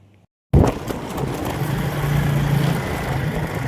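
A car driving on a road: after a brief silent start, a sudden loud rush of engine and wind noise settles into a steady, close, rumbling drone with no voices.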